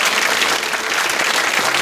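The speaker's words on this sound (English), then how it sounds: "Big round of applause for Felicity." Dense, steady clapping from a crowd, loud and continuous for the whole moment.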